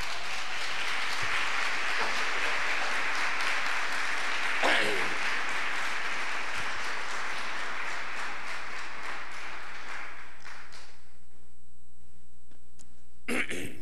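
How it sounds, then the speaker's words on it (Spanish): A church congregation claps in praise, a long swell of dense applause that thins out after about ten seconds, with a few coughs and scattered voices at the end. "Démosle un fuerte aplauso al Señor."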